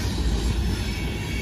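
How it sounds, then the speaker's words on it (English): A Canadian Pacific manifest freight train with a Kansas City Southern engine rolls past at night, a loud, close, continuous rumble of wheels and cars with faint squealing. "It's a manifest train and a hopper train."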